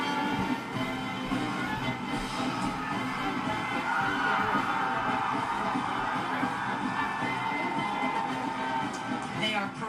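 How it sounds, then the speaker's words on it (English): A United States Marine Corps marching band, the West Coast Composite Band, plays in the Rose Parade, heard as a dense, steady wash of brass and drums mixed with crowd noise throughout. "here is the United States Marine Corps West Coast Composite Band, and they sound like this."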